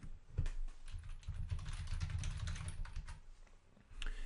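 Computer keyboard typing while entering a recipe instruction in bakery software, a steady run of quick close key taps lasting several seconds, alone with no voices.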